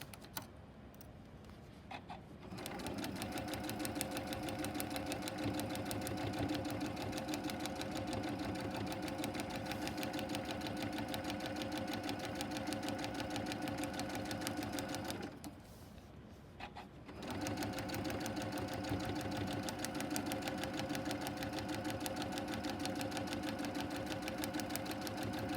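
A sewing machine runs steadily and close, stitching quilt fabric pieces for a patchwork block, with a constant rapid needle hum that pauses briefly near the start and again midway before resuming.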